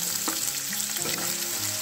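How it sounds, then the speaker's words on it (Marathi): Ginger-garlic paste and finely chopped onion frying in hot oil for a besan pithal, a steady close sizzle with soft stirring scrapes running throughout, no voices. "इथे मी 1 चमचा अद्रक आणि लसूणची पेस्ट घेतलेली आहे, ही सुद्धा तेलामध्ये टाकून घेऊ"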